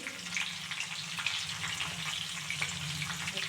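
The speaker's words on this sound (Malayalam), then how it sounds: "നമ്മുടെ വെളുത്തുള്ളി കാഞ്ഞു വരുന്ന സമയത്ത് നമ്മൾ കറിവേപ്പിലയും കൂടി ഇട്ടെടുക്കാൻ" Garlic and curry leaves frying in hot oil for a homestyle tender mango pickle, giving a steady close sizzle with fine crackling throughout and no voices.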